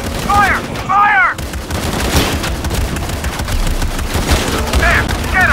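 Gunfire in the action game Shadow of the Tomb Raider, a dense, continuous stretch of shots and impacts with short voice calls at the start and end, loud throughout.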